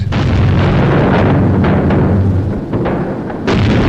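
WWII artillery shells firing during the battle of Falaise, with heavy booming blasts that roll into one another as a loud, sustained barrage and a fresh burst near the end.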